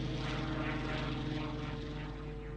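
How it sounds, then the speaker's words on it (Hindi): Supermarine Spitfire fighter plane with a Rolls-Royce engine, a steady loud propeller-engine drone with a constant hum that holds unchanged throughout, with no speech. "उसके पास रोल्स रॉयस इंजन वाला स्पिटफायर विमान भी था"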